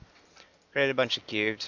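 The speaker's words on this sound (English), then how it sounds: "Sorry about my dogs." Small chihuahua dogs yip and whimper in a few quick, high-pitched bursts in the background while someone speaks over them.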